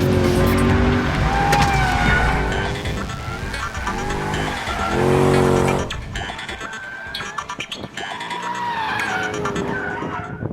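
A loud V8 engine of a Mercedes-Benz AMG Black Series revs hard while tires squeal and skid through a drift, the roar rising and falling continuously.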